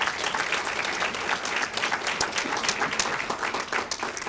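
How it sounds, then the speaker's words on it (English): A crowd gives a large round of applause for ALCOA, many hands clapping in a dense, sustained burst with crisp individual claps standing out, continuous for several seconds. "you have to give ALCOA a huge round of applause"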